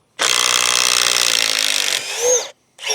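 A cordless power tool on a 3 amp hour high-output battery drives a larger fastener in one continuous loud whirring burst of nearly two seconds, then winds down briefly before a short second pulse.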